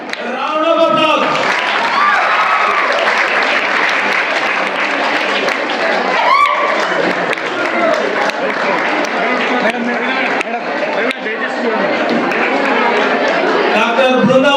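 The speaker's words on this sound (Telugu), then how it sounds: "Round of applause." A crowd applauds steadily at a Savitribai Phule birth anniversary celebration at Palamuru University, with clapping and chatter running loud and continuous for the whole stretch.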